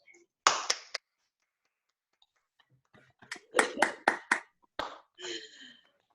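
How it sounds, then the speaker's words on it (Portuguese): An audience claps after a lecture, beginning with a few sharp separate claps, a brief pause, then a short scattered burst of hands that fades out quickly. "Eu ia pedir um enorme aplauso"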